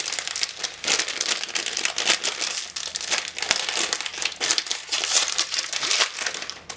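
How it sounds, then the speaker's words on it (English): Continuous loud crinkling and crumpling of a plastic Lego minifigure blind bag, handled close up and tearing open in rough, busy rustles with no talking. "we'll go ahead and open up our next Lego minifigure blind bag"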